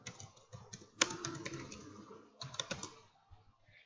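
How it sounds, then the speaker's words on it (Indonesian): Rapid, light keystrokes clatter on a computer keyboard while code is typed into MATLAB, bursts of close clicking with short pauses between runs, and no talking. "selanjutnya kita bisa mengetik display"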